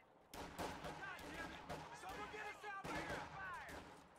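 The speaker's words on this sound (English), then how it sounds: "the riflemen are firing out the other side onto the Volks Grenadiers that were in green cover" Rifle fire in Company of Heroes 2, as riflemen shoot out the side of a house at Volksgrenadiers in cover, with rapid overlapping shots and bursts crackling continuously over dense battle noise and some voice chatter.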